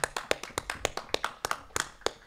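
Scattered hand claps ring out at a pike fishing championship event, a dozen or so sharp, separate claps in a brief, moderately loud burst, with no talk.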